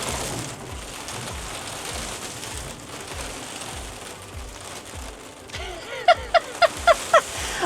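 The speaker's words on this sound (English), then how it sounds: "all of a sudden now it's gale force winds and rain" Gale-force wind and rain lash an outdoor allotment garden in the UK, a loud, rough roar with rhythmic gusting, followed near the end by a quick run of sharp mechanical clicks.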